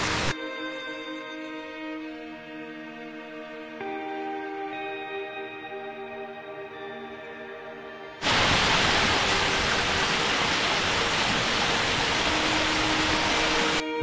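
A waterfall at Mandasaru in Odisha, a dense steady roar of falling water that swells in suddenly partway through and then holds loud and unbroken.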